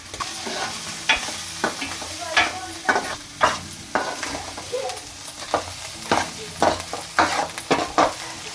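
Ginger curry with turmeric being stirred in a pan, with a spoon scraping in a steady rhythm of distinct strokes under a soft, continuous sizzle, close and moderately loud.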